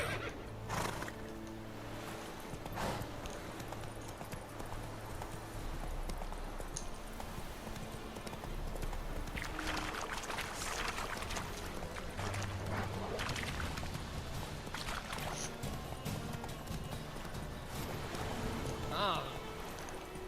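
Geralt's horse Roach galloping in The Witcher 3: steady clip-clopping hoofbeats run throughout with occasional whinnies, under game ambience and a voice speaking.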